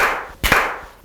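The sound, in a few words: hand clapping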